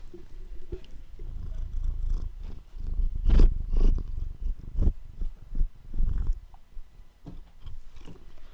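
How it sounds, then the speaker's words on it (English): A pet cat purrs softly close to the microphone, a low continuous rumble with breathy pulses and a few louder swells, with occasional faint handling noises. "My cat's purring."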